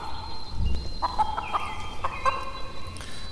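A chicken clucks and gobbles in the virtual reality game Blade and Sorcery, a run of close, loud, agitated bird calls with no talk.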